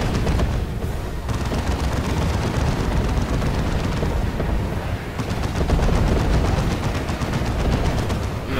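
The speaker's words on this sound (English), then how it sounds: "twin heavy bolters, combi bolter on this dreadnought" Twin heavy bolters on a dreadnought hammer away in a video game, a dense, loud stream of rapid heavy gunfire that runs continuously for the whole stretch with no pauses and no talking.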